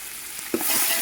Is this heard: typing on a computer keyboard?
no